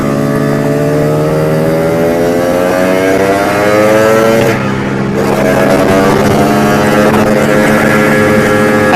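A Casa Performance motorcycle fitted with a sledgehammer333 setup revs up while ridden, its engine drone rising steadily in pitch, dipping briefly, then climbing again, loud and continuous under wind noise.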